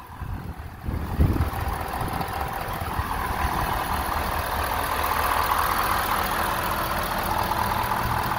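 A 2020 Ford F-250 Tremor with the 6.7L engine idles quietly and steadily with the hood open, a low, even hum running unbroken throughout.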